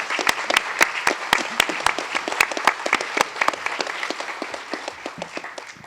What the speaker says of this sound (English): Can you give her applause just for that right now?